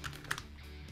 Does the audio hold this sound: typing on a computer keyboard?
yes